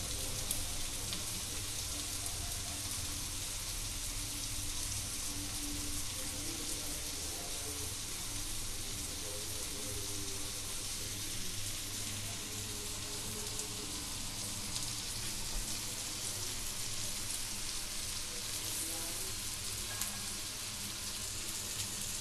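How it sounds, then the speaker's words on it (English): Chicken tikka kebabs sizzle and crackle in a pan, a steady, close frying hiss with fine popping that continues unbroken without any voices. "our kebabs are roasted very well on one side and we have to roast them the other side also"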